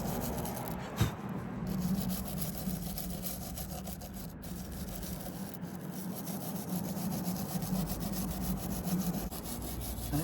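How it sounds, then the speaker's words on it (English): Contact oil is worked over a corroded, neglected motorcycle chain, giving a continuous close-up scrubbing and rasping rub that barely changes for about ten seconds. "just slowly start working that contact oil over the corrosion."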